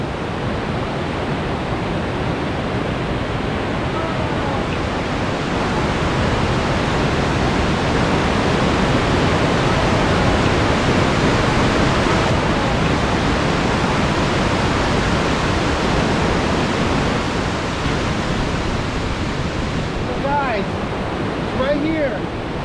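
River water flowing steadily where a Skydio 2 drone came down, a dense broadband rush that stays loud and constant.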